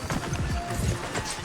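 Horse hooves clip-clopping in the video game Red Dead Redemption 2, a steady rapid thud of steps under ongoing conversation between characters.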